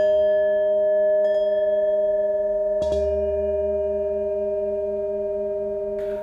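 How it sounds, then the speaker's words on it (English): Sustained pure, bell-like sound bowl tones ring steadily with layered harmonic partials, soft strikes renewing the resonance, smooth and calm throughout. "Sound bowl healing sessions will give them the comfort they need."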